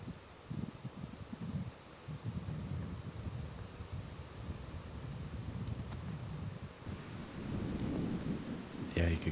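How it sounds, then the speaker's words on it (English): Strong, gusty wind roars across an open disc golf course at Maple Hill, a continuous low rumble and buffeting with rising gusts near the end. "You see the wind is starting to rip out here."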